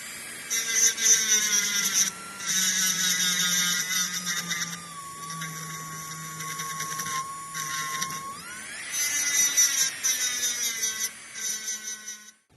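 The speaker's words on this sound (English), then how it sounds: "I'll clean up the inside as well, again using the Eve silicone discs." Rotary tool fitted with Eve silicone discs polishing the inside of a metal prong pendant, giving a close, high-pitched whine whose pitch shifts as the tool is pressed against the metal, with brief pauses in between.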